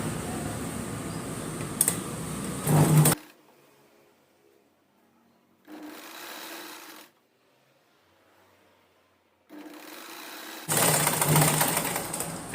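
A sewing machine stitches a small folded hem on lining fabric for a long frock. It comes in three separate runs of stitching, close and fairly loud, with quiet pauses between them.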